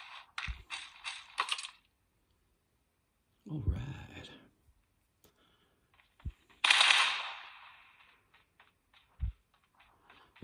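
Video game gunshots played through emulation on a Huawei P40 Pro ring out in separate bursts: rapid clattering shots, a mechanical reload-like rattle, and a loud sustained blast, with quiet gaps between them.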